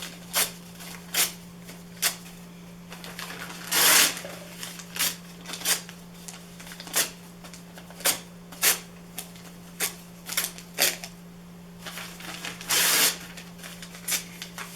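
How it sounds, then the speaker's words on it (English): Newspaper being torn by hand into small pieces, a series of short, sharp ripping bursts at an irregular rhythm, close and fairly quiet over a low steady hum. "take your newspaper and you're going to rip it up and tear it up into small pieces"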